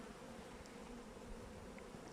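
A dense, steady drone of many honeybees humming together inside a crowded hive, constant and close with no pauses.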